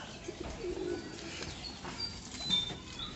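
Coloured desi pigeons coo softly at close range in an enclosed coop, with faint chirps and a little rustling under a quiet background.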